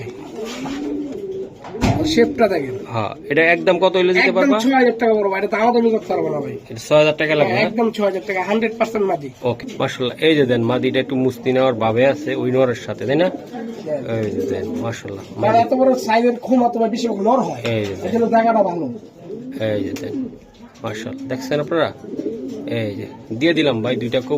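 Racing pigeons, a female among them, coo steadily and continuously while being shown, with people talking over the soft, throaty calls throughout.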